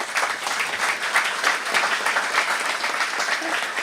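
Steady audience applause at a daytime buildathon event, dense and even throughout, fairly distant with no voices over it.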